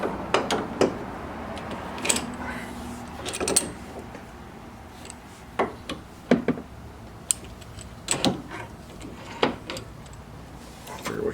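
Two wrenches tighten suspension bolts on the rear upper control arm of a 2006 Honda Civic, making close, irregular metallic clinks and clanks with short pauses between bursts.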